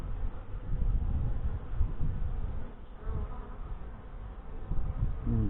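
Honey bees from a hive headed by a Saskatraz queen drone steadily in an open hive during an inspection. The buzzing is dense and close, with no talk.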